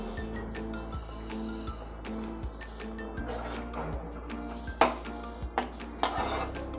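Pieces of raw mango go into a pot of prawns cooking with drumsticks, bringing clinks and scrapes of utensils against the pot, a few sharper knocks, and a faint simmer underneath.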